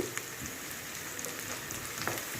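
Bottle gourd pieces frying with turmeric in a pan, giving a steady, soft sizzle with small crackles and pops, close and continuous.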